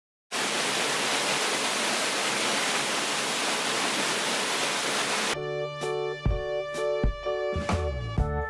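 A mountain stream flows beneath a renovated footbridge, a steady broadband rush of water heard close and loud for several seconds before giving way to music.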